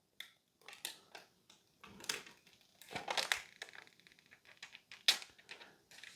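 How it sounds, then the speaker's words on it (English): A plastic liner is peeled off a UAG screen protector film for a Galaxy S23 Ultra, giving irregular crackly crinkles and tearing rasps in short bursts with small gaps, close and fairly quiet. "And then you're gonna peel the inside off."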